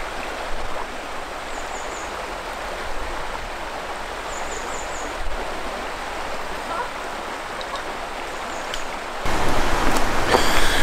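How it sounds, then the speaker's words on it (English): River in Bryngarw Country Park, a steady broadband rush of flowing water close by, with faint bird chirps above it and a sudden louder surge near the end. "We seem to have turned up next to the river."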